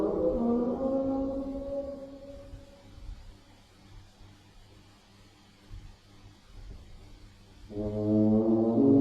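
Recording of a door opening and closing, slowed down two octaves: deep, droning harmonic tones at the start and again near the end, with a quieter rumbling, noisy stretch in between. No voices.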